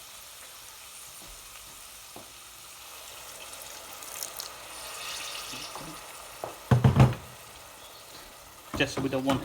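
A chicken curry in a pan sizzles and spits when a little hot water is added, a soft frying hiss rising to sharp bursts of sputtering, with a voice speaking briefly over it.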